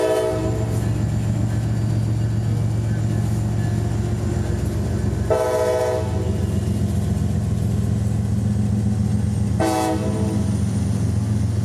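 A freight train led by an EMD SD70ACe locomotive in black and white horsehead paint rolls past on a Florida line, its heavy rumble loud and continuous, with two short horn blasts sounding over the steady roar.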